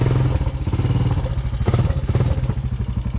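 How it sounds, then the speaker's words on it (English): A Honda Recon ATV revs hard in a shallow creek during a burnout, its engine pulsing in rapid, rough bursts with splashing clatter, loud and close with no talk. "I'll try to do a burnout."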